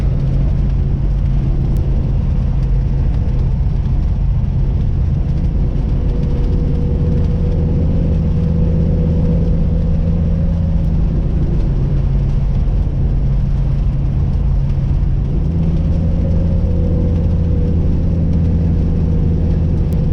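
A classic Camaro cruises along winding South Carolina country roads, its engine a steady low droning rumble with gentle shifts in pitch, loud and continuous from inside the car, with no one talking.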